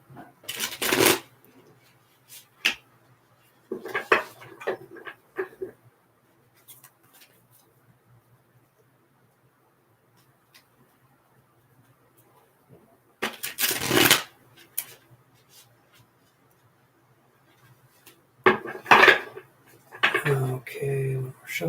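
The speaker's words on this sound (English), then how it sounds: "Just going to shuffle here." A deck of tarot cards is shuffled by hand during a live reading, with short crisp riffling bursts separated by long quiet gaps, close and fairly clear.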